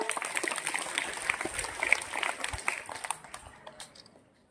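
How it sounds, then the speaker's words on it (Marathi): A gathering at a school welcome event claps for arriving guests, a moderately loud spread of many hands clapping that tapers away into quiet at the end. "हा जोरदार टाळ्या."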